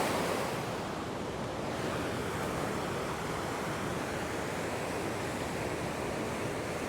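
Ocean surf breaking on a sandy beach shore, a steady, continuous wash of waves with a wind-blown roar and no voices.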